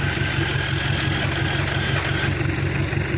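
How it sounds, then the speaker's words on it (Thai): A diesel tractor engine idles loud and close with a steady, even chugging throb. The pulse is low and regular, and no voices are heard over it. "เครื่องนี่ฟังดูยังนิ่มอยู่เลยนะครับ"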